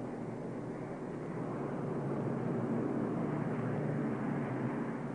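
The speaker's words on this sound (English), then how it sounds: "most of the planes in the skies over the Kremlin were all but obsolete" Soviet military planes, largely obsolete models, fly over the Kremlin in a steady, droning engine roar that holds fairly constant and slightly swells, with no speech.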